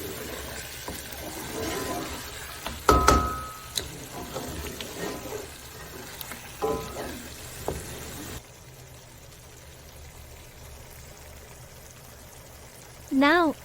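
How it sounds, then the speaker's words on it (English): Two glasses of water are poured into a pan of mutton curry masala, giving a soft splash and trickle in a kitchen, with clattering sounds early on and a voice speaking near the end. "add 2 glasses of water to the pan, making sure to cover the entire mixture"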